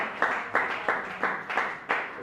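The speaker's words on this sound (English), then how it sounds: "Let's clap again for our dear prof." Sparse, rhythmic hand clapping from online forestry webinar participants, about six distinct claps spaced evenly, fairly close but modest in volume.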